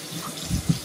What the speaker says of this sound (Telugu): clean clean it with water